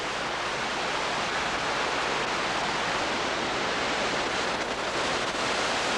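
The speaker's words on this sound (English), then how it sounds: "Water cascades down over a few rapids." A mountain waterfall cascading over a few rapids near Silverton, Colorado: a loud, steady, broadband roar of rushing water, continuous and close with no voices.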